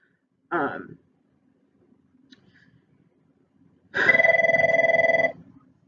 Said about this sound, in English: I got a phone call and I was irritated